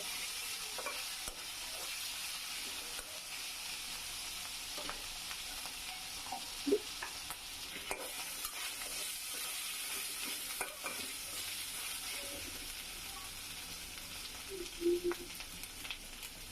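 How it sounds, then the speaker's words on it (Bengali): Ginger garlic paste frying with small dried fish for a Bengali potato curry gives a soft, continuous sizzle with occasional stirring scrapes and light clinks, fairly faint and with no talk. "আদা রসুন দিয়ে একটু ভেজে নিব"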